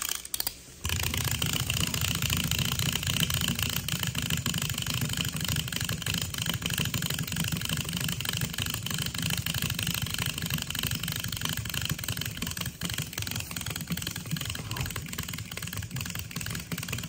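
A hollow wind-up Happy Miner toy with a swinging pickaxe and no walking mechanism runs down, making a continuous, even mechanical whir that holds steady for many seconds after a brief click at the start.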